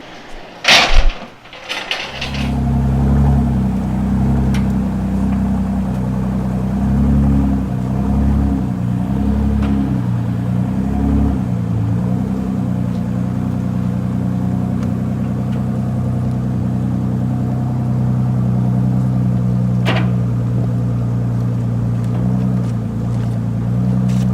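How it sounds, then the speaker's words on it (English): A brand new 2019 Ford GT Carbon Series rolls off a transport truck, its engine idling with a deep, steady rumble after a sharp door-like clunk at the start. "about to watch a brand new Ford GT come out of a reliable truck"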